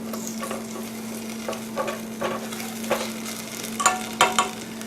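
Cream cheese and shredded cheese melting in a pan as a utensil stirs them, rhythmic scraping strokes repeating roughly every half second over a soft sizzle and a steady electrical hum, close, no talking.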